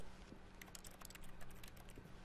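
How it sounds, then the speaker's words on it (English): Quick, light keyboard clicks tapping in irregular bursts, soft and fairly close, over a faint steady background hum, in the video game The Stanley Parable. "sounds like am I carrying a keyboard around?"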